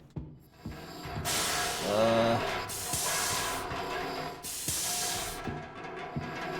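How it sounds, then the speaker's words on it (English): Loud bursts of steam hiss in the horror video game Monstrum, three broad sustained blasts over a rumbling, clanking mechanical background, with a brief creaking tone in between. "There's Steam making noise. In game."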